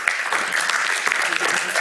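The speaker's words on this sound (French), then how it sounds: "on peut l'applaudir" An audience applauds a MétéoSuisse weather forecaster as he takes the stage, producing a dense, steady burst of clapping heard clearly and fairly close for the whole stretch.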